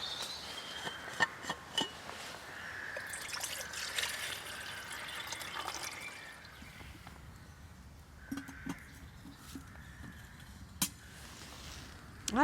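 Water is poured and trickles outdoors at a tarp campsite while morning coffee is made on a Bushbox XL stove, a faint, irregular liquid splashing with scattered clinks and soft birdsong in the background.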